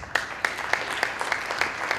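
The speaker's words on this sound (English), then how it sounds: "a lot of you applauded for some of them" Scattered audience clapping in a lecture hall at a skeptics' conference, a thin regular run of distinct claps, roughly evenly spaced, moderately close with no talk.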